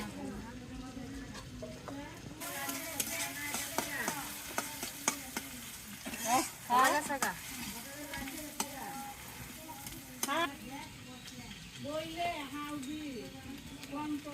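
Spice paste of chilli powder, turmeric and cumin paste mixed with water, stirred in a pan with scraping, sizzling sounds running steadily underneath people talking.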